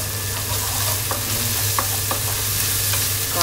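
Ginger hitting hot oil in a pan for dinuguan, a steady close sizzle with occasional crackles and pops throughout, no voices.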